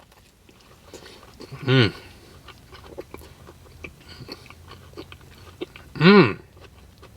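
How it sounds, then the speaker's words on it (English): A Mighty Taco Banderito is bitten and chewed, with faint close crunching and chewing throughout. Two short hummed sounds of enjoyment rise above the chewing. "let's go ahead and bite into this MIGH-TY Taco Banderito and try it out"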